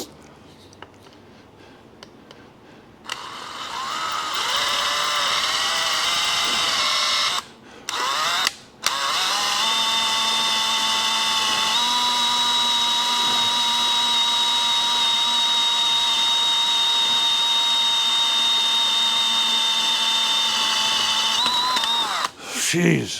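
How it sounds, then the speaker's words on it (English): A power drill bores into very hard metal for a hydraulic motor adapter, a loud sustained whine lasting nearly twenty seconds with two brief pauses near the start, its pitch holding steady throughout. "never drilled anything that hard"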